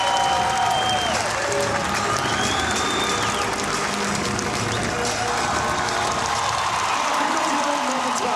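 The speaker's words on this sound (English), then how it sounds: "This crowd is so vocal" A vocal crowd at the DTM race podium at the Nürburgring cheers and applauds in a dense, continuous wash, with whistles and shouts rising over the steady clapping.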